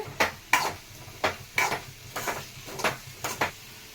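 Carrots and eggs with green chillies cooking in a pan, where a utensil scrapes and stirs in roughly regular strokes about twice a second over a faint, steady sizzle. The sounds are fairly quiet and close.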